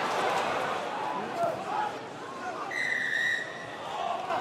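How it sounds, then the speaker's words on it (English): A referee's whistle at a Gloucester versus London Irish Premiership rugby match gives one short, shrill blast over crowd noise and a commentator talking. "The referee blowing the whistle,"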